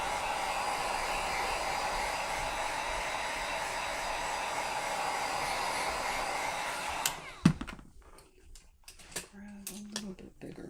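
A hair dryer blows on paint to dry it. A steady close whoosh runs for about seven seconds and then cuts off, leaving faint handling clatter and short bursts of noise. No one speaks.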